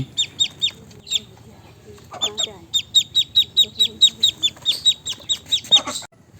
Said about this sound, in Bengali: চীন হাঁসের বাচ্চা এগুলা কিচিরমিচির থাকে